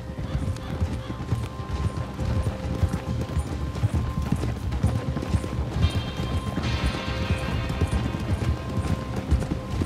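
Several horses trot in the video game Red Dead Redemption 2 with a dense, continuous clip-clop of hooves, with a whinny and faint talking partly buried underneath.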